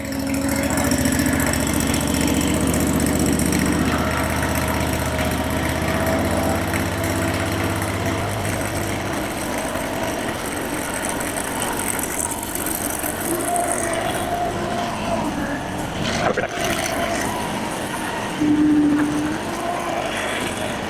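A mini skidder trailer mover's small engine idles steadily, a loud, close, continuous droning hum whose low tone shifts after several seconds and runs on alone without talk.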